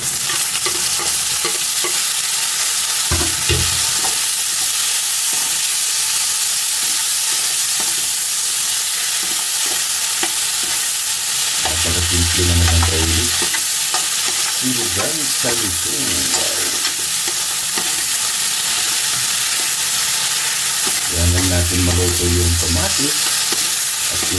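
Loud, steady sizzle of garlic, onion and tomato sautéing in hot oil for salmon sinigang, with scraping stirs at intervals and no talk.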